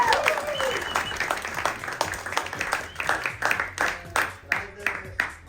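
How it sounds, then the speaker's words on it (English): A small group applauds at a World Cafe partnership-building event, with the clapping thinning toward the end into a few loud, uneven claps close by. "Applause."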